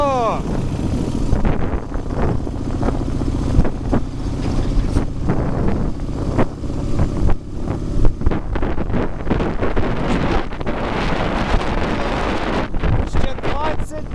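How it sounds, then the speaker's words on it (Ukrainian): A car speeding along a road from Khotyn to Kamianets-Podilskyi at around 200 km/h, with heavy wind buffeting the microphone and a constant engine and road roar filling the whole stretch. "Їдемо 200 кілометрів на годину."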